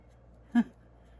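One short cat meow, faint and a little distant, standing alone against quiet room tone.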